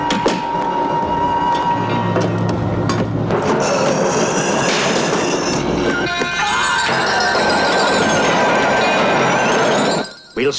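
Train running in a horror film, a loud continuous rumble and rattle with clanking and a rising whine, dense throughout before cutting out abruptly near the end.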